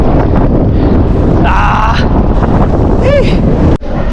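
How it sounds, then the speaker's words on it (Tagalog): Strong headwind roars and buffets against the microphone continuously while cycling in Northern Ireland, with a brief whistling tone and a sudden dropout near the end. "Katulad nito, may hangin, headwind."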